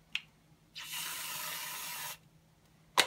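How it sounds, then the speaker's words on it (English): Anchor Light spray cream squirted from the can onto iced coffee, one steady close hiss lasting over a second, with a soft click before it and a sharp clack from the can afterward. "Squirt of Anchor Light on top"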